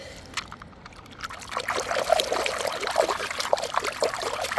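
River water pours and trickles over a rock as it is rinsed on the Chehalis River, a steady close splashing that grows louder after the first second and continues without talk.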